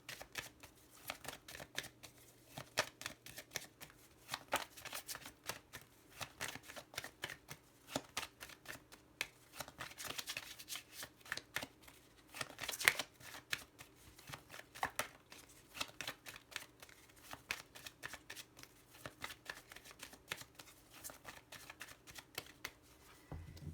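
Lenormand cards being shuffled by hand in a tarot-style reading, a long run of dense papery riffling and flicking, close and steady with one sharper snap midway, and no voices.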